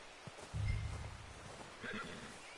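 A horse in Red Dead Redemption 2 gives a short, fairly quiet whinny with a few soft hoof and rustling sounds around it in an outdoor game scene.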